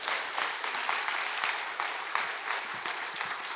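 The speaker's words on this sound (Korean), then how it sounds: "나오실 때 우리 박수로 한번 환영해 주시기 바랍니다" A church congregation claps steadily in warm, continuous applause to welcome a missionary speaker to the front, with no voices over it.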